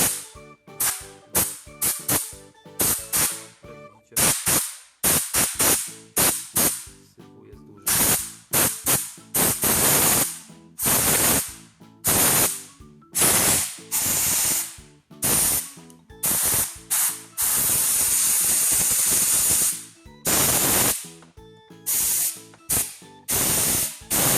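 Bursts of compressed air blast dust out of a clogged PS4 console's heatsink during cleaning, loud, close hissing sprays in rapid short puffs and a few longer sustained blasts, with no talking.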